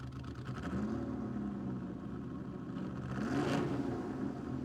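A 1962 Ferrari 250 GTO in Gran Turismo 7 revs steadily in the game, its engine note climbing, dipping, then surging again near the end. It is loud and close, with no voices.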